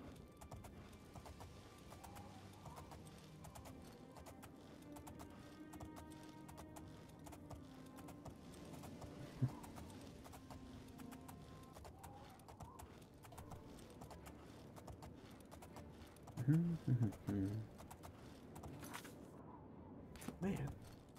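Horse hooves galloping in Elder Scrolls IV Oblivion, a steady clip-clop rhythm running low and continuous under game ambience, with a few louder thumps near the end and someone talking now and then.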